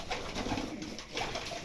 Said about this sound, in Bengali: এই যে দেখুন, রেসিং আর রুমবাজি কবুতর।